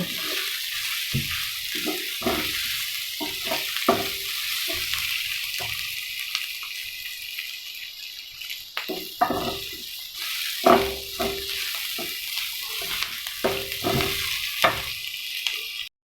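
Chilli garlic sausages fry in a pan with a continuous sizzle and hiss, broken by scattered pops and clatters of handling.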